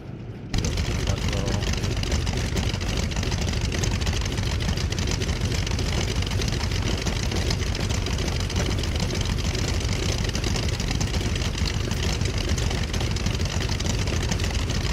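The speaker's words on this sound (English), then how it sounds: "That engine sound is awesome too." Grumman F6F Hellcat radial piston engine in Microsoft Flight Simulator, a loud, steady, unbroken drone with heavy low rumble that holds at constant power throughout after a brief quieter start.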